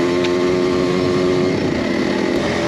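Motocross dirt bike engine running steadily close by, a continuous buzzing drone with no break and no voices.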